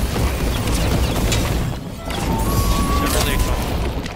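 Missile strikes a fighter in a fast team-based video game, landing as a dense crash and boom among constant game noise, with players talking over it throughout.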